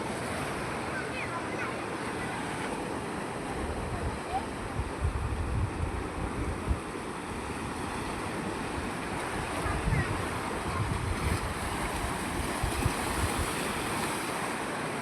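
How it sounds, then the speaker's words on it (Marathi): Sea waves wash steadily onto Harihareshwar beach, a quiet shore lined with coconut groves, with a continuous broad surf roar and wind buffeting the microphone throughout. "मित्रांनो, हा हरिहरेश्वर समुद्र किनारा इथे"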